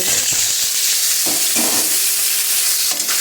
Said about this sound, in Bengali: তার জন্য কড়ার মধ্যে দিয়ে দিয়েছি সর্ষের তেল আর ডিমটার মধ্যে নুন হলুদ মাখিয়ে নিচ্ছি দিয়ে দিচ্ছি ডিম